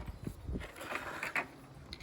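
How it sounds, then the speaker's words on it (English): Screws are tightened into a weed wacker trimmer head, giving quiet, close creaks and small mechanical ratcheting clicks over a couple of seconds. "now that we got the screws in, let's get them tight."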